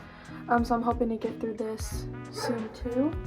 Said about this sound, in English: I apologize if you hear my dog barking.